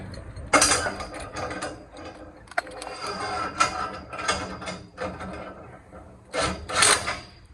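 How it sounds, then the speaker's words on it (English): Scaffolding sway brace being fitted to the front standards outdoors: repeated metallic clanks, ratcheting clicks and scraping bursts in an irregular rhythm, close and moderately loud. "Now I'm going to put the sway brace in on the front to level all these outside standards left to right."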